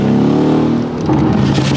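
A Stage 1 Mercedes CLS 550 accelerates hard from inside the cabin, its engine note rising in a loud, steady rev that climbs then settles into a rougher, thicker drone.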